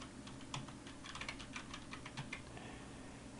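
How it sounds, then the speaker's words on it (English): Rapid, uneven keystrokes on a computer keyboard as the word Interstate is typed while a sign is built in Corel Draw, close and steady with no talking. "The next thing I'm going to do is type Interstate."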